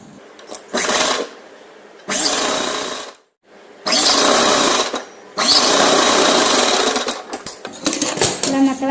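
A sewing machine runs in several loud, rapid bursts separated by brief pauses while stitching a double-folded hem on a lehenga made from an old saree.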